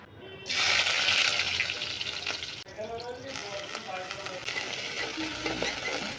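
Greens frying in a hot pan, stirred with a loud hissing sizzle and scraping that run continuously up close, with a brief break partway through.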